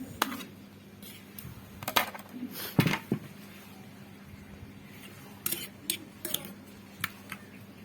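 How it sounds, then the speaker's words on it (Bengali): Duck meat sautés in a pan under scattered metallic clinks and scrapes of a utensil against the pan, close by over a low background hum, with a faint voice at moments. "তো এদিকে আমি মাংসটা কষিয়ে নিচ্ছি।"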